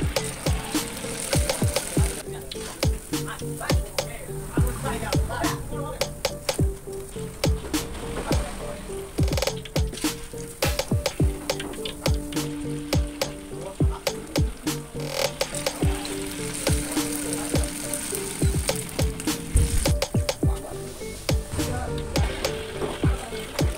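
Banana churros frying in oil that is too hot, a steady dense sizzle with crackling pops throughout, close and continuous with no talk.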